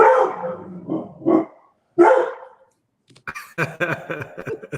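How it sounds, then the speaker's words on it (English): A big dog barks loudly several times close by, a few deep single woofs followed by a quicker burst of rough barking. "Sounds like a big dog."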